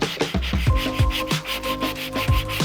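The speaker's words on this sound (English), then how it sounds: "So move straight on to sanding. It's a bit of 80 grit on a very hard surface." Hand sanding a very hard car body surface with 80 grit paper in a restoration workshop, a loud close rasping in quick rhythmic back-and-forth strokes, alone with no voices.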